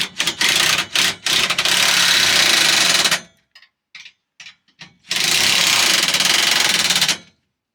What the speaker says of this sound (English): I think the third one's gonna need the ratchet.